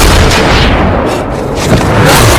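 A sniper rifle shot in an action film lands as a loud, heavy boom that rolls out with a dense, booming tail and no break, with no talk over it.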